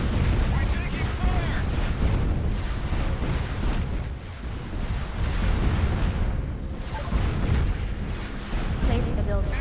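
Gunfire and explosions hit a base in the strategy game Art of War 3, a dense, continuous barrage of booms and shots with a rough, crackling texture, loud and unbroken throughout.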